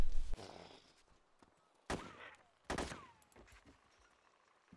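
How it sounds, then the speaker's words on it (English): Gunshots from DayZ zombie shooting: a few sharp, loud separate cracks spaced about a second apart, each with a brief decaying tail, against a quiet background. "I'm gonna shoot another zombie."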